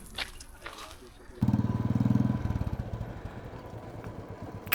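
A Royal Enfield Bullet motorcycle engine suddenly roars up close on Koheda Hills, a rapid throbbing putter that holds steady then eases, with people talking faintly around it.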